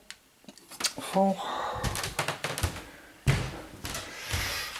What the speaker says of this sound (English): then I've closed the door.